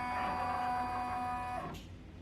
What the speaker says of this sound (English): And it's going to stitch all the way around and get that in place.